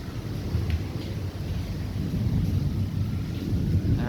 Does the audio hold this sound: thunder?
yes